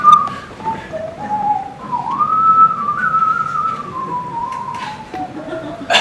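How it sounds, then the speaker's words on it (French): A person whistles a film melody solo, a clear wavering tune with sustained and sliding notes over a faint background of room noise, fairly close and steady in loudness for several seconds. "La dernière que j'ai sifflée"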